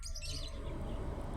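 Pet birds chirping, a cluster of quick, high tweets heard alone at low volume against faint background noise.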